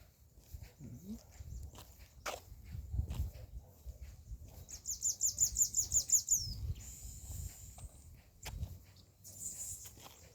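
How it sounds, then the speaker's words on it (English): Birds chirp outdoors during a walk: a quick, bright, high-pitched trill of repeated notes stands out midway, with soft footsteps and faint rustling around it. "Here the birdies."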